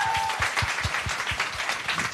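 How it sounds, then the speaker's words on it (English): An audience at a career mentoring conference gives a round of applause: many hands clapping together, steady and moderately loud, with a few distinct claps standing out near the front. "Please, everyone, give them a huge round of applause."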